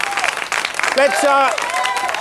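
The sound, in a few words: studio audience applause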